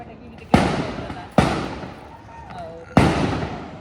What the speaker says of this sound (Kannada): ಇದೆಲ್ಲ ಪಟಾಕಿ ಗಿಟಕಿ